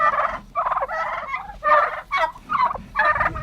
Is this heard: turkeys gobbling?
yes